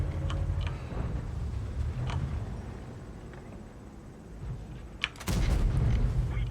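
A tank cannon in World of Tanks fires a few distant, muffled booms over a steady engine rumble, then a sharper, louder blast lands near the end.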